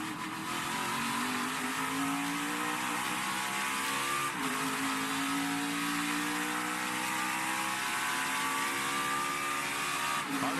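Kevin Harvick's NASCAR Xfinity race car engine heard onboard at the race start, a loud continuous roar with rising pitch sweeps as it revs through the gears, briefly dipping at a shift before climbing again.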